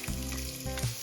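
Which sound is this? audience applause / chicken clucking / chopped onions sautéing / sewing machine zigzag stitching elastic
chopped onions sautéing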